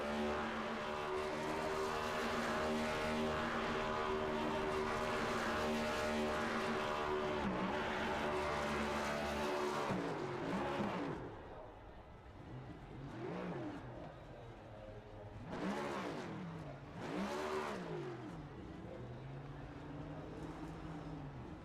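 A race car doing a burnout after a Winston Cup-style stock car race at Charlotte in the iRacing simulator. A loud, steady engine roar holds for about ten seconds, then breaks into repeated rising and falling revs with no one talking.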